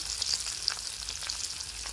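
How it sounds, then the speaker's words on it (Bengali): Winter vegetables go into a hot oil tempering over low flame, giving a steady close sizzle and crackle of frying with faint stirring throughout, no voices. "ফোড়নটা চড়বড় করে এসছে, এবারে আমি সবজিগুলো একটু একটু করে দেব।"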